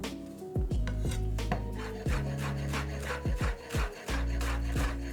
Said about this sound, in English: I'm gonna start with some dill. We just wanna chop everything really, really fine.